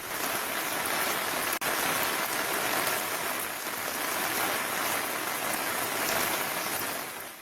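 Heavy rain pours steadily across Telangana, a dense, continuous hiss of drops hitting surfaces, loud and close throughout with no voices.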